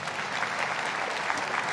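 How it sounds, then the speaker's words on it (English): Audience applause during a church service: dense, continuous clapping from a crowd, fairly loud and steady throughout, with no speech over it. "Clap for him."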